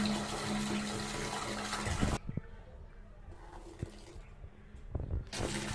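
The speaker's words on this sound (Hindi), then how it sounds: "पानी फूल चल रही है" Water gushes steadily from a tap while washing shoes for about two seconds, then stops, leaving a quiet room with a few soft knocks before the flow starts again.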